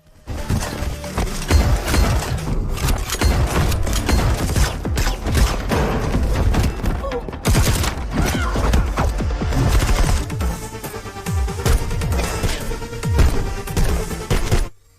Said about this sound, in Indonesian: Senjata itu mulai menembakkan peluru